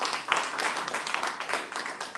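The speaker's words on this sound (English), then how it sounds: "please round of applause for Dr. Philip" Short burst of audience clapping at a workforce training session, a moderately dense patter of many hands that rises quickly and carries on at even loudness.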